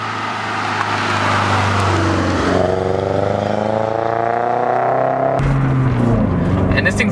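A 2014 Toyota Corolla S with a six-speed manual gearbox and VVT-i engine pulls through the gears from inside the cabin, engine pitch rising steadily, then dropping sharply at a shift before climbing again.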